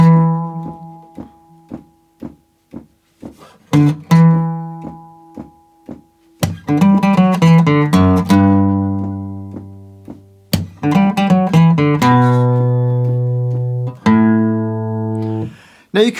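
Guitar plays the verse of a song, with sustained strummed chords and single picked notes in a slow rhythm, close and clear with no voice.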